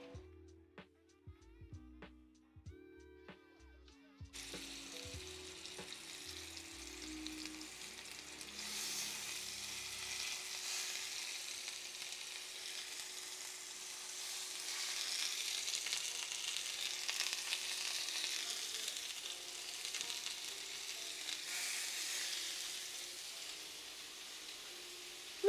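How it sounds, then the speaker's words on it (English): Chuck steak searing in a hot pan, a loud sizzle that starts abruptly after a few quiet seconds of soft background music and holds as a steady, hissing crackle to the end. "So I'm going to go ahead and sear these."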